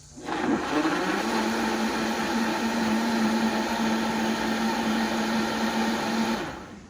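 A blender whirs steadily while blending a smoothie with coconut oil: a loud, continuous motor whine that starts up, holds an even pitch for about six seconds, then winds down, with no voices.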